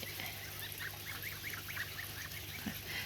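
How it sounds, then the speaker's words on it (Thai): Young Chinese and Embden-Toulouse goslings give soft, rapid peeping calls in a steady chatter over a low background hum, several birds calling close by. "อันนี้ คือลูกห่านจีน กับลูกห่านเอ็มเดนโทเลานะคะ"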